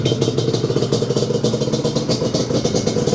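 A Yamaha Banshee ATV, running 330 jets, idles steadily with a loud, even, rapid pulsing engine throb and a clattery mechanical edge, close up and with no voices.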